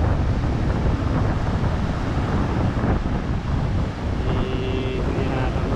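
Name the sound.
strong wind at beach campsite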